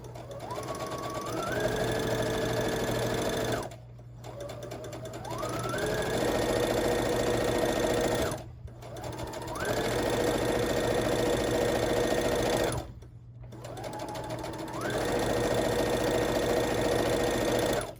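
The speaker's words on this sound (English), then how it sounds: "I can take this last one and just sew it on the end." A sewing machine stitches patchwork squares together in three long, steady runs of fast mechanical whirring, each rising in pitch as it speeds up and stopping briefly between bursts, close and alone.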